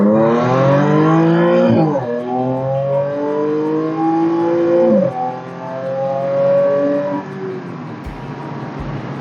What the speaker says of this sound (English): I love the supercharger whine. I love the exhaust sound.